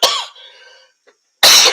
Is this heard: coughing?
yes